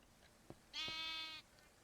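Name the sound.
sheep bleating in Minecraft modpack video game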